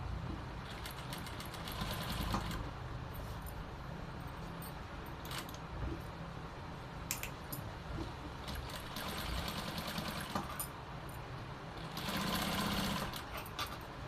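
A sewing machine stitches along the edge of collar canvas in steady whirring runs, with short pauses between bursts and a louder stretch near the end.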